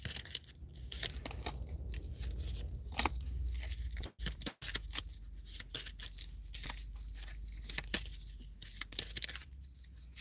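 Repeated crisp riffling and snapping bursts of shuffled cards, close up, in quick irregular runs with brief pauses, no talking.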